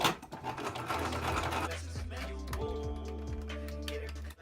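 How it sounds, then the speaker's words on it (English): A sewing machine top-stitches denim jean panels in a fast, close mechanical whirr, running steadily before slowing into a few separate stitches and stopping. "So I just finished sewing and top stitching these."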